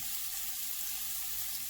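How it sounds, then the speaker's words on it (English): Onion and tomatoes sizzle and fry in a pan, a steady close hiss of hot oil with no break throughout. "Fry the onion till it becomes soft."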